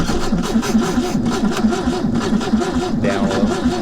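A flooded engine cranks over and over without catching, a loud, close, rhythmic churning with a steady pulsing beat and a brief change near the end, no voices.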